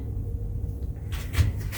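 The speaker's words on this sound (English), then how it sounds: "And shower door will open this way." A shower door in an Odyssey of the Seas ocean-view balcony cruise cabin opens. A quiet lull ends in a short sliding clatter and a soft thump near the end.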